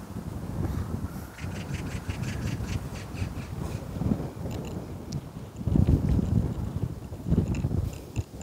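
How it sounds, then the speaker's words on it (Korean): Strong wind buffets the microphone outdoors in uneven, rumbling gusts that swell and fade over several seconds, with faint scattered bird squawks above. "오 바람이 세네요"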